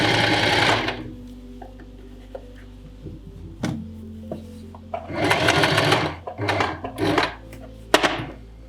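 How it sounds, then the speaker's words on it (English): A sewing machine stitches a dart in a pattern-making tutorial, running in a quick burst, then several shorter bursts with pauses and small clicks of handling between them, close and clear. "we're gonna stitch the dart in the back"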